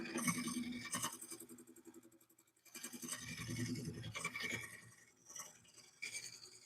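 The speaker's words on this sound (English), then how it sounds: "Now you can kind of come back and use your gouge as a scraper and do a scraping cut." A wood lathe gouge used as a scraper makes a scraping cut on a turned bowl, giving a close, gritty, rasping scrape in several long passes with brief pauses between them.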